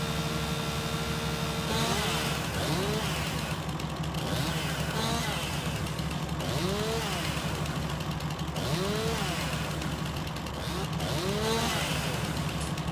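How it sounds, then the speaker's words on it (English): A chainsaw cuts wood in Farming Simulator 19, its engine revving and bogging in repeated rising and falling surges, loud and continuous throughout. "Halfway down, the chainsaw just kind of blows it."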